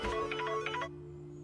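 A short electronic ringtone melody plays for under a second over a steady low hum, then cuts off.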